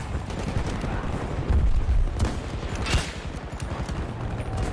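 Dense gunfire rattles through a Battlefield 2042 match, overlapping shots and bursts with a couple of heavier cracks standing out, loud and close throughout without a clear single sniper report.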